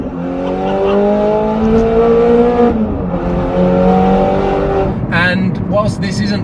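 A Nissan GT-R R35 engine runs loud and close, its harmonic drone holding steady then rising and falling as the throttle changes, with a few higher squeals near the end; people talk over it.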